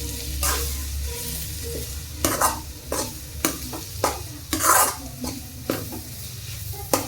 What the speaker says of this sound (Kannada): ಹಾಕಿ ಒಂದು ಸ್ವಲ್ಪ ಮಿಕ್ಸ್ ಮಾಡಿ ಅನ್ನ ಹಾಕಿ ಮಿಕ್ಸ್ ಮಾಡ್ರಿ